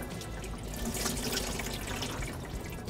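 Coolant draining from a removed Honda Civic water pump into a drip tray, a soft continuous trickle and splatter of liquid with no talk.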